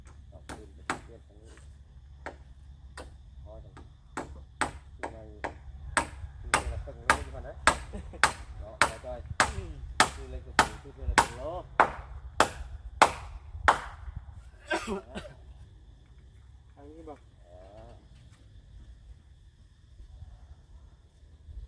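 Hammer blows nailing wood while a house is being built, a steady run of sharp, evenly spaced strikes that speed up and grow louder mid-way before stopping, with a few quieter taps and brief talk afterward.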